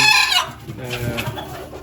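Fancy domestic chickens clucking close by, a short burst of loud calls followed by softer scattered clucks.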